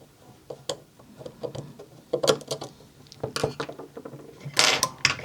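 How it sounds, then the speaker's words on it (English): Screws are driven into a 3D-printed part with M3 nuts, giving irregular small clicks, ticks and ratcheting scrapes, close and moderately quiet, alone without talk. "go ahead and put your screws in"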